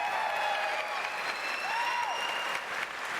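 A large convention-hall audience applauds during Bethesda's E3 2019 stream, a dense steady wash of clapping with faint cheers over a thin background tone.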